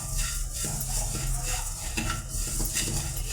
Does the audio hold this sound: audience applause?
no